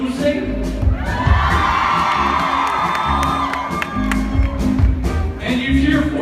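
Convention panel audience cheering, whooping and clapping loudly and continuously throughout, a close, dense crowd roar with high shouts and claps rising and falling, with some talk mixed in.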